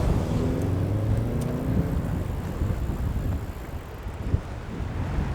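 Wind roars against a moving cyclist, a loud, constant low-frequency buffeting on the microphone with faint road rumble beneath it and no speech.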